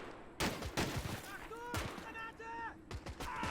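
Gunfire in a World War II video game mod battle, including MG 42 machine gun fire: several loud sharp shots and short bursts at close range, with voices speaking between them.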